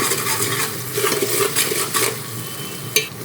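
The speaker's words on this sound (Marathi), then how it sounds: "आता परतून घेऊ," Spinach (palak) sautéing with turmeric and black chilli powder in a pan gives a close, gentle sizzle broken by repeated spatula scrapes and stirring strokes, ending in a sharper clink against the metal; no one talks.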